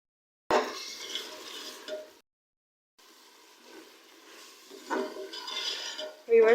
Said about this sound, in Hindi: अब हम चनों की अच्छी तरह से भुनाई कर लेंगे।